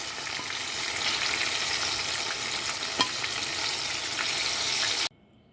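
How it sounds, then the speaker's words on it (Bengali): Banana slices fry in hot oil for banana toffee, sizzling in a continuous crackling hiss with a sharp tick near the middle, before the sound cuts off abruptly to near silence. "আমার সেকেন্ড ব্যাচ কলারটাও ভাজা হয়ে গেছে"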